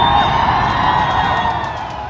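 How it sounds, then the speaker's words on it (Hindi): Thousands of onlookers at the Twin Tower demolition shriek and whoop together in a loud, dense crowd roar that stays sustained and slowly fades across the moment. "नीचे जमीन पर हजारों लोगों के मुंह से हैरान कर देने वाली चीखें गूंजने लगी"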